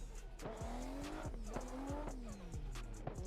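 Tires squeal repeatedly as a car drifts in a racing simulator game, with rising and falling screeches over a revving engine at steady game volume, no talking.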